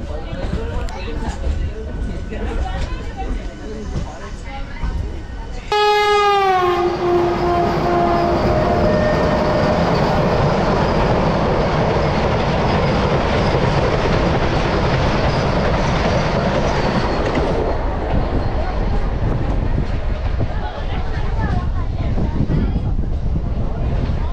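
A local train bound for Digha rolls along loudly and steadily, a sharp descending squeal or horn-like tone cutting in near the start before a continuous rumbling clatter carries on throughout.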